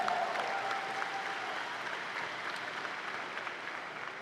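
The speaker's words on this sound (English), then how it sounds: "That deserves a round of applause" A graduation audience at a high school ceremony applauds scholarship students with steady, dense clapping that holds at a fairly even level throughout, spread across a large hall with no voices over it.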